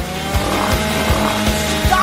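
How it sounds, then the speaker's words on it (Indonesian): Cartoon saw cutting through a Twix chocolate bar: a loud, buzzing, engine-like drone with regular rhythmic strokes repeating about every three-quarters of a second, close and continuous. "Singkirkan gergaji itu sekarang. Tenang, aku membutuhkannya untuk memotong Twix."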